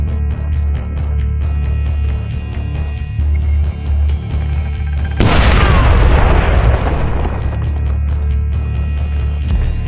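A grenade bursts in the stealth shooter Splinter Cell: Blacklist, one loud, sudden boom that rolls into a crackling, decaying blast over a steady game soundtrack with repeated clicking beats.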